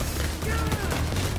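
Dense automatic and rapid gunfire from a Payday 3 heist mission on Xbox, sustained and loud throughout, mixed with game noise and combat chatter.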